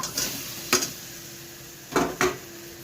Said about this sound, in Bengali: আগে থেকে আলু আর ডিম ভেজে রেখেছিলাম, দিয়ে দিলাম।